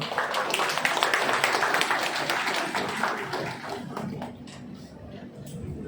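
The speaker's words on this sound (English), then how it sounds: "please give him a good round of applause." A college conclave audience gives a round of applause, with dense, fairly loud clapping that thins out toward the end.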